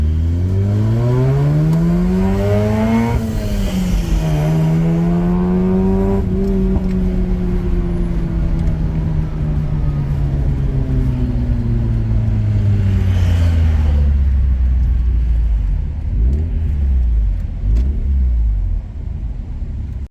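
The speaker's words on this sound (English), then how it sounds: "Try to get a bit of room so I can get this sucker up on the rev limiter." A Mazda RX8 rotary engine revs hard, climbing repeatedly toward the rev limiter with rising and falling whining tones over a constant loud rumble, close up and with no talking.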